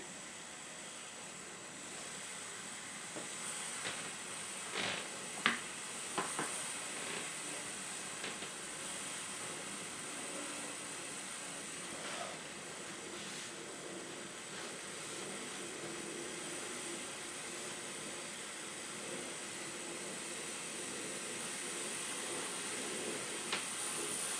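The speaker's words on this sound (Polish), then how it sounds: "od razu uchodzi para tutaj w tym zaworze, który się za chwileczkę zamknie" Steam hisses steadily from the valve of a WMF Perfect 4.5-litre pressure cooker while beef goulash cooks, a continuous close hiss with a few sharper spurts and faint background clatter.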